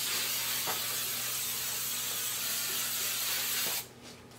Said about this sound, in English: I'm just going to basically fog the helmet with hairspray.